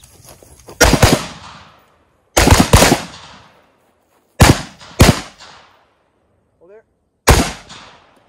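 Gunfire during a two-man room clearing drill on a range: loud, close shots arriving singly and in quick pairs with gaps between, each with a short echo, and brief speech in between.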